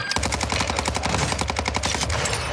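Sustained automatic gunfire in Warzone, a loud, steady stream of rapid shots running nearly unbroken and close.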